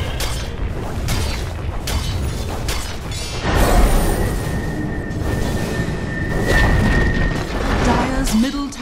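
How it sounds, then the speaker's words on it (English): A tower collapsing in Dota 2: loud booming crashes and crumbling impacts, followed by a sustained rumbling roar with a ringing tone over it. "Dire's middle tower has fallen."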